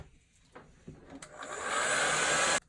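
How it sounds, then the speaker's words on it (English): A hairdryer blowing on watercolour paint whirs up after a few small taps and handling sounds, building to a steady airy roar for about a second before cutting off abruptly. "For me, this is easy because I have a hairdryer."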